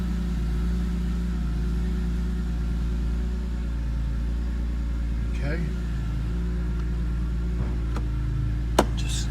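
A 2004 BMW M3 engine idles steadily with a low, even hum throughout, heard up close; a person speaks briefly over it, and a couple of light clicks come near the end.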